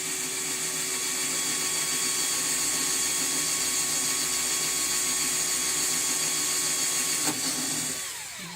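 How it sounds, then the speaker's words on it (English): A steady, high-pitched power drill whines continuously at close range, drilling through a Shelby Cobra's bodywork, with a brief click near the end as the motor winds down. "drilling through both at once."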